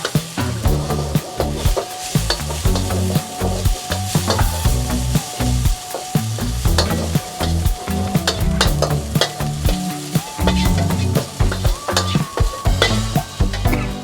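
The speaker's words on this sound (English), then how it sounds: "Stir that around for about 15 seconds." Beef and eggplant with black beans being stir-fried in a hot pan, loud and close, with steady sizzling broken by rhythmic scraping and tossing strokes.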